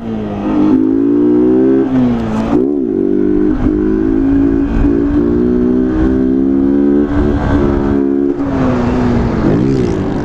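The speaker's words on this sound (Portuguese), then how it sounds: "ouve a moto, ouve a moto, vou ficar até quieto, ó." A nearby motorcycle engine revs hard and holds high, loud throttle with pitch swells and dips between gear changes, the engine note dominant and no one speaking over it.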